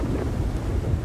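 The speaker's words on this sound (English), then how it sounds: "That was the biggest roll of thunder" A deep, rumbling roll of thunder during an Amazon rainforest thunderstorm, heard as a steady low-frequency roar over wind and rain noise, filling the whole short moment without a break.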